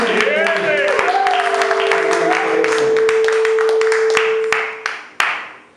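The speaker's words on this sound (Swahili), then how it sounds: "Makofi." A church gathering breaks into applause after a welcome at a theology graduation, scattered claps growing denser beneath a sustained voice or tone, then thinning to a few final loud claps.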